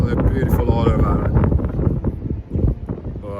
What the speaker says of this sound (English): getting a bit windy and breezy and cool